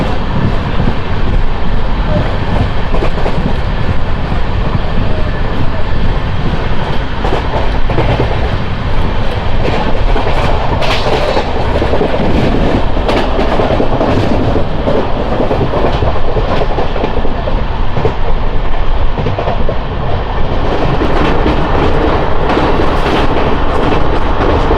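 Palnadu Express, an LHB-coach train, runs steadily through Tirupati railway station without stopping, a loud, continuous rumble of wheels with clickety-clack rhythm over the rails that holds for the whole stretch.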